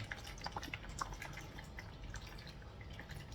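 Water drips and trickles through semi-hydro substrate being flushed, a quiet continuous wet patter with a few sharper drip plinks early on, faint and close, with no speech.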